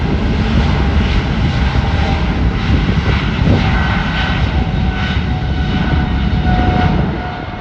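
A Delta airliner landing on runway 24 right at Los Angeles International Airport gives a loud, steady jet engine roar that holds for the whole stretch with no break and no voices.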